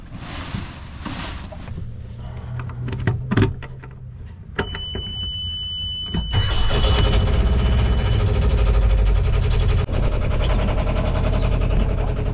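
A sailboat's engine idles, a steady low rumble heard up close that starts faint beneath some clunks and knocks, then grows noticeably louder and fuller partway through and holds there.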